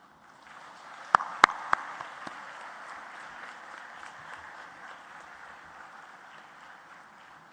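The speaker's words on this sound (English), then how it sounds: "give them a big applause" Audience applause at a graduation convocation in a large hall in Colombo, a broad, steady wash of clapping from a big crowd, with a few sharp close claps near the start, fading slightly toward the end.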